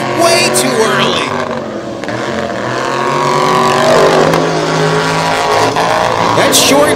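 A short-wheelbase Chevy drag truck in the Dirty 30 class launches hard off the starting line at a West Lebanon drag race, a loud roaring engine that rises and sustains under an announcer's commentary.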